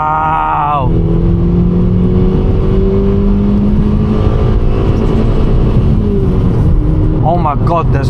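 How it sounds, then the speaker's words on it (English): A Toyota car accelerating hard in second gear toward 60 mph, its engine note loud and close, climbing steadily in pitch and holding a continuous roar, with a short voice near the start and again near the end. "I was just testing if this car does 60 miles per hour in gear 2"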